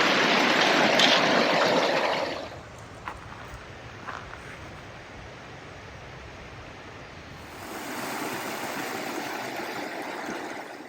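A river flows beside a mountain hiking trail near Zealand Hut, a broad, steady rushing that is loud at first, drops to a quieter background with a few faint knocks, then swells again.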